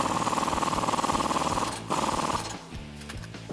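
A 21mm socket on a ratchet tightens the track bar flag nut on a Jeep Wrangler JK, giving steady rapid mechanical clicking for about two seconds, then a short pause and a looser, sparser run of clicks.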